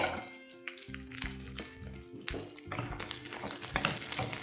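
Garlic sautéing in a hot pan for thecha masala, a steady close sizzle with stirring scrapes running throughout, alone without talk.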